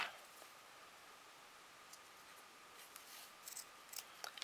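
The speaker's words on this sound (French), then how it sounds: "Là, il était un peu taché, donc je coupe ce qui me dérange." Scissors snipping off a stained length of ribbon during card-making, a few faint light cuts late on against a quiet room.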